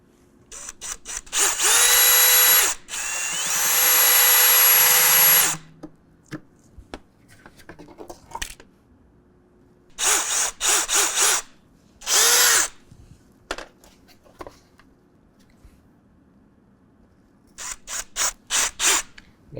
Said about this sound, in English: we're going to drill straight through these holes on the template, or these marks on the template.